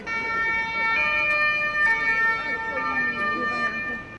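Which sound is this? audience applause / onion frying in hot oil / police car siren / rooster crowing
police car siren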